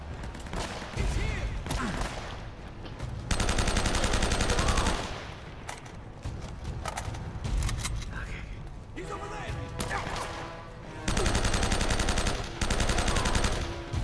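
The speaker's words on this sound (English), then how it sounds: "Who's that shooting?" Bursts of gunfire from the video game Uncharted: Drake's Fortune, loud rapid volleys in several stretches with steady game noise and a voice talking in between.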